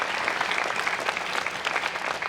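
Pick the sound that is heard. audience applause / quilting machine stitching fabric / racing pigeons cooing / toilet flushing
audience applause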